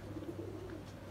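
Pigeons cooing softly in a low, continuous murmur over a steady hum, fairly close and not loud, with no voices.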